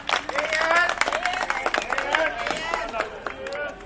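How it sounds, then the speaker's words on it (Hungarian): Crowd at a car demonstration outside a mayor's office in Halásztelek clapping and cheering, lively applause with shouts and chatter mixed in, loud at first then easing slightly. "Egy tapsot mindenképpen megérdemel."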